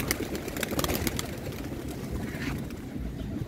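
Pigeons coo softly outdoors amid rustling and the flutter of wings, with a steady background of ambient noise and no talking.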